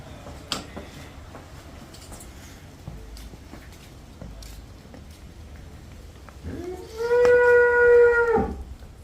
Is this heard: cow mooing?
yes